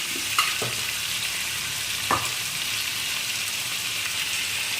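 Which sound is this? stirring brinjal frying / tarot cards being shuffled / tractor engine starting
stirring brinjal frying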